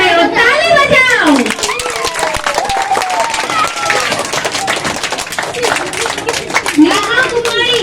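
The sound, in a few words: children clapping in school event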